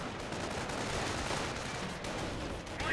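Rapid bursts of small-arms and machine-gun fire in a World War II real-time strategy battle, US forces against Wehrmacht, a dense, continuous crackle of overlapping shots and impacts with no pauses.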